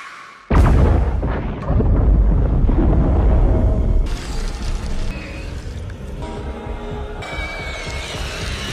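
A sudden loud boom as a spacecraft crashes into a station bursts in, followed by a long rumbling roar that slowly settles into a lower, churning rumble.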